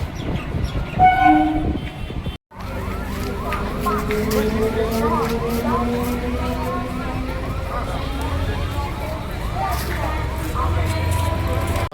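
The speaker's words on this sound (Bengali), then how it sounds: "যেহেতু রেল লাইন গেট পড়ে আছে, ট্রেন ঢুকেছিল, ট্রেনটা ছেড়ে বেরিয়ে আছে" A train moves off through a railway level crossing near a market, with a horn sounding and steady rolling rumble and wagon clatter over nearby traffic noise, and a voice briefly audible under it.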